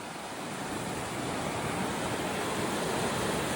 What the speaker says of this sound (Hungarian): Ez bizony a Poprád vízesés.